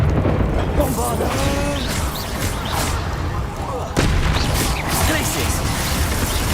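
A Bombarda explosion spell goes off in Hogwarts Legacy: loud booming blasts and crashes among game effects, with one sharp hit near the middle, while a voice talks over the action.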